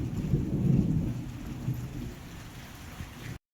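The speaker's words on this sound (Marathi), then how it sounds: "कसं पाऊस पडायला बघ, बाहेर बघ पाऊस" Rain falling outside during an evening storm with low thunder rumbling, loudest near the start and then easing into a steady patter, no voices.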